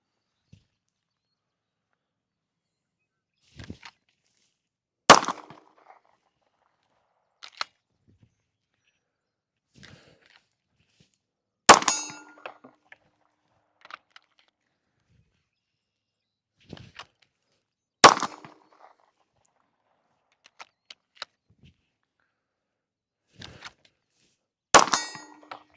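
Glock 17 pistol rounds striking steel targets ring out as sharp metallic clangs, about five loud hits spaced several seconds apart with fainter ticks and knocks between them, and no talking.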